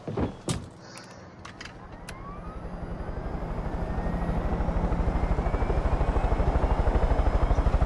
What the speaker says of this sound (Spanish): otra vez el mismísimo helicóptero que tan buena suerte nos da